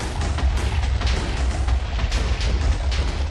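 Rapid-fire blasts from a weapon in Minecraft's Hermitcraft FTB Monster modpack, a dense, continuous barrage of booming bursts that stays loud and steady throughout with no talking.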